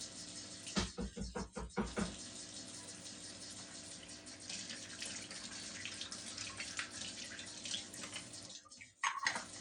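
Water runs into a home coffee maker's reservoir, a steady close splashing pour with a few bumps and clatters at the start and end.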